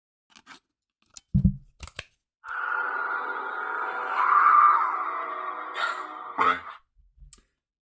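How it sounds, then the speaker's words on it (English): A few sharp plastic clicks and knocks as a battery is fitted into a Graflex-style lightsaber hilt with a Proffie board, followed by a steady electronic hum that swells and fades after several seconds. "Let's put a battery in here."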